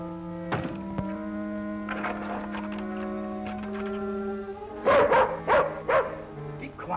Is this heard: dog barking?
yes